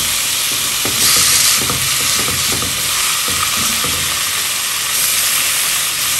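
Chicken for pollo sudado cooks in a pot over low heat, giving a steady close sizzle and frying crackle with a hissy steam wash throughout, with no talk.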